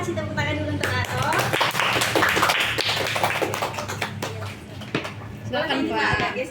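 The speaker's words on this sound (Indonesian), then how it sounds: "Kasih tepuk tangan dulu untuk Ato." An audience at an architecture campus talk show applauds a guest being welcomed, a loud sustained burst of clapping lasting several seconds while a host speaks over it.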